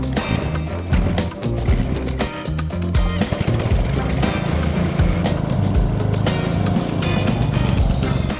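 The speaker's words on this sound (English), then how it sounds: "My tiller apparently needs carburetor cleaned on it. It wasn't running very well, so I had to keep pulling it to restart it." A small garden tiller engine in need of a carburetor cleaning is pull-started and runs rough, loud and close, sputtering unevenly in its first seconds before settling into a ragged, continuous chug.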